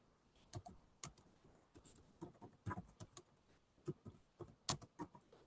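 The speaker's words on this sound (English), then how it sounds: "I'm typing on a German keyboard" Typing on a German computer keyboard, a close, quiet run of irregular key clicks with a few sharper louder taps.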